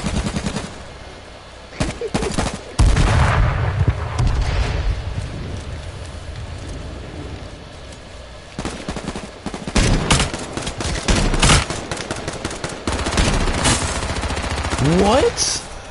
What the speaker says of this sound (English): Oh, I hear shooting somewhere.